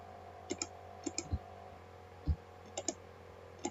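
A computer mouse gives a handful of sharp, close clicks in small clusters, some in quick double pairs, against a quiet background hum.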